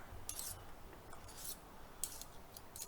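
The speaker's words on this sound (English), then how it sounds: "we'll come back when you're done scraping" Meringue mixture being scraped from a bowl, heard as short, faint, close rasping strokes with bright scratchy bursts separated by quiet gaps.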